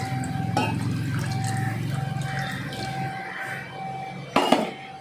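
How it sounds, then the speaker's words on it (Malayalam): Coconut milk (first extract) pours into a simmering Thrissur-style fish curry, a steady liquid trickle and bubbling in the pan, with a brief louder splash near the end. "ഈ സമയത്ത് നമുക്ക് ഒന്നാം പാല് ചേർത്ത് കൊടുക്കാം"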